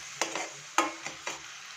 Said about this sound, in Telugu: సో ఇది మాడిపోకుండా ఇలా కలుపుకుంటూ మనం ఆనియన్స్ పేస్ట్ని ఫ్రై చేద్దాం.